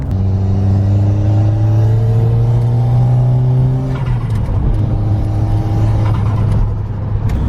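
A Ford Sierra RS Cosworth engine drones loudly from inside the car, its pitch rising under turbo boost, then dipping briefly before it pulls again as a steady close-up rumble.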